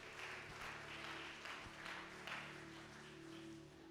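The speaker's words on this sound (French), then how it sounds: "Give a hand to Jesus." A church congregation applauds, a soft, steady patter of clapping that stays faint and distant for a few seconds.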